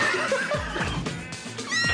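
A horse whinnies loudly in the middle of a busy, dense mix of other sounds and music, with its call rising and falling over about two seconds.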